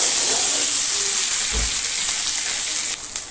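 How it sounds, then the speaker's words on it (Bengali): Potatoes tossed with salt and turmeric fry in hot oil in a wok, a steady close sizzle and hiss with a brief clunk partway through and no talking. "আলুগুলো বেশ লাল লাল করে ভাজতে হবে।"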